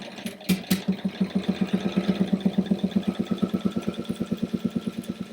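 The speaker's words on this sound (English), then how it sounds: "Lindsay's been busy sewing with her new serger." A new serger sewing machine runs steadily, producing a fast, even mechanical thrum of regular pulses after a couple of sharp knocks at the start, close and fairly loud.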